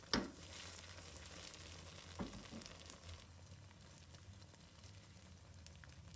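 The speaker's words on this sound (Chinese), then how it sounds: "让海蛎煎的每一面都能煎得金黄酥脆。" Oyster omelette frying in oil in a pan, a steady soft sizzle and crackle running throughout at moderate level, with a couple of brief clatters near the start and middle.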